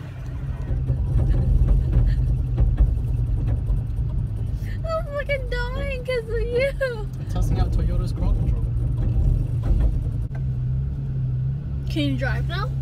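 A 2017 Toyota Tacoma idles and strains with crawl control engaged while stuck in mud, a steady loud low engine rumble running throughout, with brief clicking bursts and a short voice-like whine partway through and again near the end.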